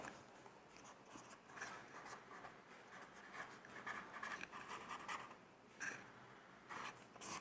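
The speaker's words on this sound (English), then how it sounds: "I'll write it up for you." Pen writing by hand on paper during a medical lecture on Rickettsia, a steady faint scratching and rubbing with short pauses, close and quiet, with no talking.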